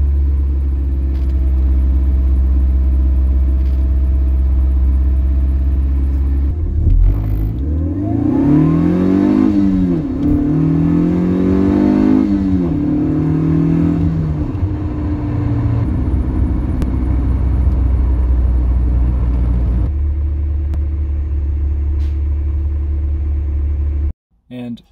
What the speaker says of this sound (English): first one is a cold start, the second is a high RPM acceleration, third is a 2000 RPM cruise, and the last one is a warm idle